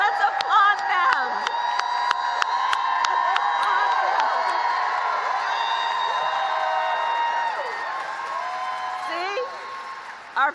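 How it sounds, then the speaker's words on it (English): A large rally crowd at a Kamala Harris campaign event in North Carolina applauds and cheers for first-time voters, a loud sustained roar of clapping, whoops and shouts that lasts throughout before easing slightly near the end. "Can we applaud all our first-time voters and young leaders who are here?"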